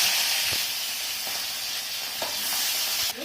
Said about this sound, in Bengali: গরম হয়ে গেছে আমার তেল, পনিরগুলো ভেজে নেব।